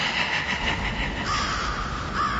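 A Spirit Halloween raven animatronic gives loud, harsh crow caws that repeat in rasping bursts, electronic and close, with no talking.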